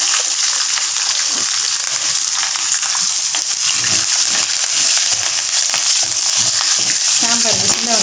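Onion fries with dried red chilies and mustard seeds in oil for vegetable sambar, a loud, dense, continuous sizzle with rough stirring scrapes up close, and a brief voice near the end.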